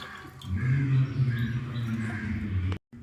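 Water is poured into a glass onto frozen lemon cubes, making a steady gurgling splash with faint crackles from the ice, close by, before stopping abruptly near the end.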